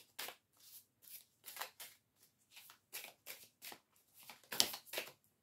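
Tarot cards being shuffled, with soft, quiet riffling bursts repeating in an irregular rhythm and no talk over them.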